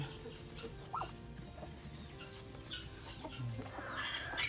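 Soft, scattered clucking and peeping from small chickens, with other farmyard noises and a low steady background hum.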